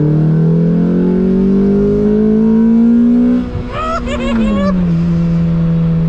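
A Lotus Exige S2 engine revs hard inside the car, its pitch climbing steadily under load, then dipping as a gear changes before pulling again, loud and close throughout.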